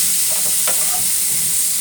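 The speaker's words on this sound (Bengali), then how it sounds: "এটা এরকম ভাজা হোক, তারপর আমার দেখছি পটলগুলো একটুখানি ভাজা ভাজা হয়ে এসছে" Sliced pointed gourd (potol) fries in a pan with a steady, close sizzling hiss that runs without a break. A few brief clinks of stirring come through near the start.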